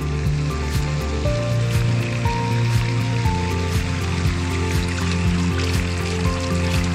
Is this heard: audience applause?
no